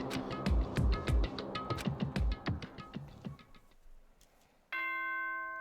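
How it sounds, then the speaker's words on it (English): Ascending-descending school announcement chime from the game Danganronpa, a clear bell-like tone burst following busy game music and effects, ringing out alone and fairly loud. "Ding dong, bing bong."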